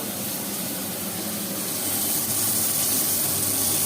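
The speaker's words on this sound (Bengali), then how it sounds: "মাছ ভাজাটা, মাছের মাথাটা একটু ভাজা হোক" Fish head frying in a pan during home cooking gives a steady, loud sizzling hiss that swells slightly partway through and carries on with no one talking.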